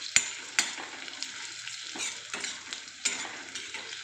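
A spoon stirs sabudana khichdi in a pan with soft scraping and a few sharp clinks against the metal, over a faint continuous sizzle, close and fairly quiet.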